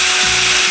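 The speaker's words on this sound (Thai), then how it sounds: "แล้วก็จะเจาะสว่านนำนะครับ" A power drill bores a pilot hole for screws, a brief close, loud motor whine with a sustained hum that trails off as it stops.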